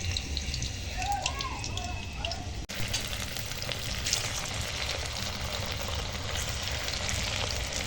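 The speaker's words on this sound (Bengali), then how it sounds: "জালটা খুব হালকা জালে এরকম ম্যাজিক বলগুলো ভেজে নিচ্ছি" Onion-coated magic balls bound with cornflour frying gently in oil over low heat, a continuous soft bubbling sizzle close by, with a brief clatter early on.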